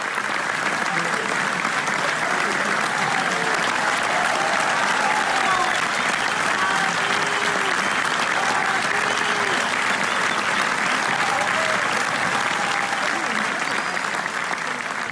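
Film festival audience in Venice gives a standing ovation, a thick, sustained roar of clapping from a large crowd with faint voices mixed in, steady and loud throughout.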